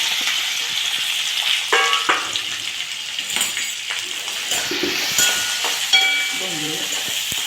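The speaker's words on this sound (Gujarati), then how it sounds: "તેલ ગરમ કરી તેલમાં હિંગ નાખી લસણ નાખવું આદુ લવિંગ ડુંગળી" Asafoetida, garlic, ginger, cloves and onion fry in hot oil for dhaba-style palak paneer, giving a steady close sizzle with scattered utensil clinks and stirring, and a faint voice briefly.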